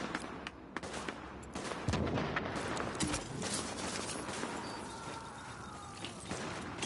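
Gunfire in The Division's Dark Zone during player-versus-player fighting, with dense rapid shots and bursts at mid-distance over a steady rumbling background.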